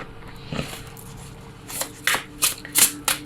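Tarot cards shuffled by hand during an oracle card reading, a run of crisp riffling bursts that grow louder and more frequent toward the end, close and with no talking.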